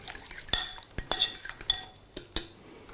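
Crab cake ingredients, including finely chopped vegetables cooked in butter, mixed in a bowl, with a utensil clinking and scraping against the sides in quick irregular strokes, close and clear.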